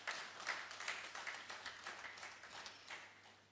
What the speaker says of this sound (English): please give a big round of applause to Dan